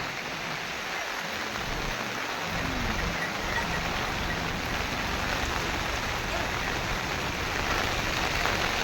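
Steady, dense rain pours down along the mountain pilgrimage trail to Kedarnath, a continuous close hiss of drops with no pauses for the full stretch.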